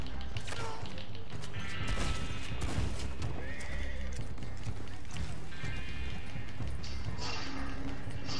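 Horse neighing and galloping hooves in the video game Red Dead Online, with whinnies and rapid clip-clop over busy game noise and occasional crashes.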